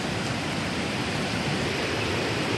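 Water rushes steadily through the intake of a mini hydropower scheme under test, a loud, unbroken broadband roar like a small waterfall, constant throughout with no pauses.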